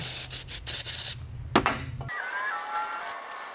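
An LS1 engine valve being cleaned by hand: a series of short rhythmic rubbing scrapes, a sharp knock, then a quieter hiss as the work continues up close.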